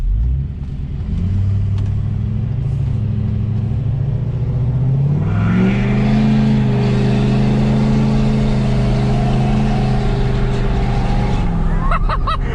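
A deleted and tuned 6.7 Powerstroke diesel pickup truck accelerating hard, its deep engine drone rising steadily in pitch through a long pull, heard loud from inside the cab with voices talking over it.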